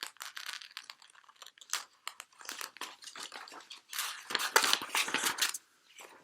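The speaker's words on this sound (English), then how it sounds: "This picture I'm cutting out at the moment is a piece of artwork by James Lake" Scissors snipping out a paper picture for a collage, a run of close, crisp cuts and paper rustles in irregular bursts, busier near the end, with no talk over it.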